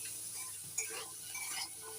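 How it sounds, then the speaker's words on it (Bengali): Potato pieces and jackfruit seeds sizzle gently in oil while being stirred, with a soft, fairly quiet frying hiss and light scraping taps of a spoon against the pan. "নাড়াচাড়া করে একটু ভেজে নিচ্ছি"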